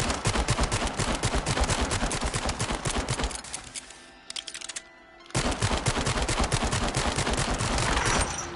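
Dense, rapid gunfire rattles nonstop as a player shoots at skulls in the VR horror game The Dark Pictures: Switchback VR, breaking off briefly to a few scattered shots before the loud barrage resumes.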